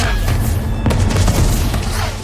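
Fireworks go off in the animated series Arcane, with dense loud booming and crackling blasts over a constant roaring mix, and faint voices mingled in.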